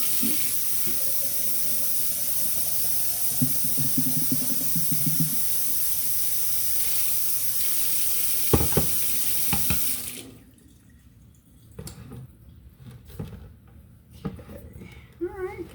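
Tap water runs steadily from a faucet into a sink with a broad, loud hiss, then cuts off, leaving quieter clatter and faint kitchen sounds.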